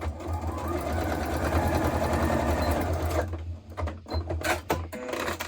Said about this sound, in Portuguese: vou costurar, passar uma costura aqui